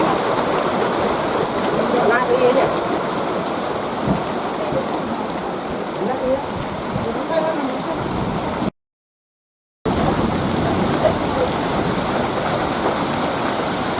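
Dense, steady rain pours at Pasir Malencer on a cold hilltop as the wind picks up, a continuous broadband hiss and patter that holds evenly throughout, broken by about one second of total silence.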